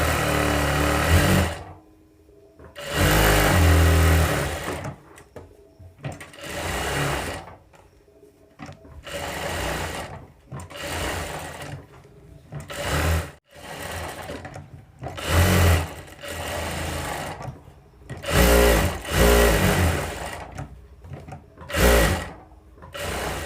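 A sewing machine stitches a blouse back panel in repeated bursts of fast, rattling runs separated by brief pauses, close and fairly loud with no talking.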